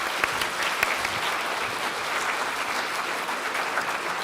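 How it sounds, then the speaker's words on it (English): A conference audience at a co-operative congress applauds with dense, steady clapping that fills the room at an even loudness for several seconds, with no talk over it. "A round of applause for Eva, please."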